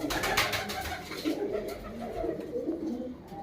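Pigeons coo in soft, repeated throaty calls, fairly close and overlapping, over faint background noise with no one speaking.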